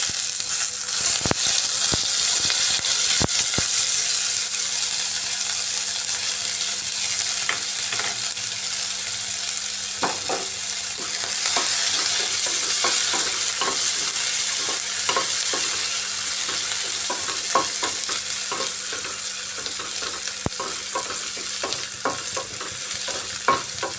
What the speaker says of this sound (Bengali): এর মধ্যে পেঁয়াজের বেরেস্তাটা ভেজে নিচ্ছি।